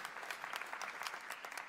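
Audience applauding educators at a live classroom event in a science museum, a steady spread of many hands clapping at moderate distance, fairly faint and even throughout.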